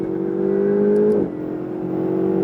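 A Ferrari on a track at Issoire under full throttle, its engine note climbing steadily and loudly before dropping off sharply as the driver lifts, then settling into a lower steady drone.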